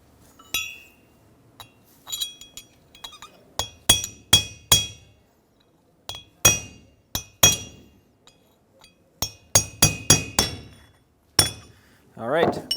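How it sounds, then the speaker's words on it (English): Hammer blows on a steel punch driving a rear outer wheel bearing on a 2007-2014 Chevrolet Silverado 2500 HD, a series of sharp, ringing metallic strikes in uneven bursts, close and loud, with a brief talking voice between some hits. "when I punch it, not just the punch, but also my hammer bounces right back"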